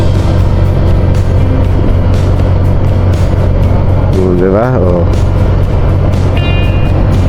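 A Honda Click scooter engine drones steadily while riding on a rural road, loud and continuous with wind rush, as a rider murmurs briefly over it.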